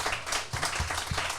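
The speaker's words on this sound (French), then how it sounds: "Est-ce qu'on peut l'applaudir, s'il vous plaît?" Applause during a live discussion event, a brief stretch of dense clapping from an audience with some louder individual claps, fairly close.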